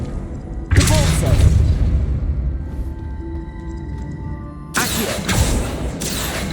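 Two heavy booming force blasts of the Depulso spell in Hogwarts Legacy, each a loud thudding burst followed by a rumbling tail, with a faint tonal hum between them.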